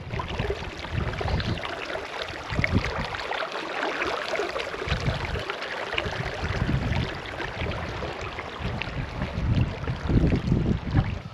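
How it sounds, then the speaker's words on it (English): Wind blows in the central northern Nevada desert, a continuous loud, gusty buffeting roar against the microphone that rises and falls without pause. "Why is it windy? Why wind in the desert?"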